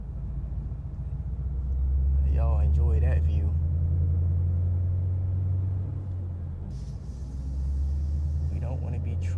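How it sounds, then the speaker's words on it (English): Ford Mustang GT with headers on a drive, its engine giving a loud, deep rumble that swells and eases with the throttle, while someone speaks briefly over it. "Y'all just gonna hear the car."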